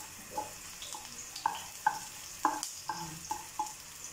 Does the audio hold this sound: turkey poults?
no